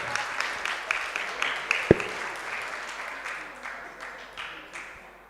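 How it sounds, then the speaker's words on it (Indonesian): An audience at a school student-council candidate debate claps for the three candidate pairs, uneven scattered clapping that fades in and out, with one sharp loud thump partway through. "Sekali lagi, beri tepuk tangan yang meriah kepada ketiga pasangan paslon."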